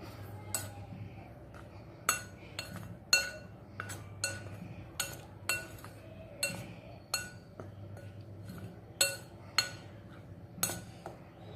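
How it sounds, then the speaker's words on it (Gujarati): Several flours stirred together in a bowl with a spoon, the utensil clinking against the bowl in about a dozen sharp, evenly spaced taps over a soft low hum, with no talking. "પહેલાં આપણે બધા લોટને મિક્સ કરી દઈએ।"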